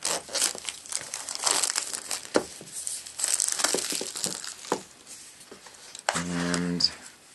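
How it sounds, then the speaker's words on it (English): Plastic wrap on an Apple iPod touch box crinkling and crackling up close as it is cut with a dull cutter and peeled away in irregular bursts, with a short hum near the end. "So let's get the plastic off of here."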